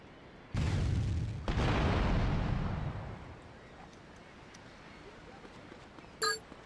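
A video-game explosion in GTA Vice City Stories on PS2 goes off as a loud booming blast with a second burst a second later, each decaying into a rumbling tail before the scene falls quiet.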